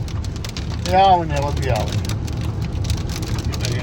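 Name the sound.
heavy rain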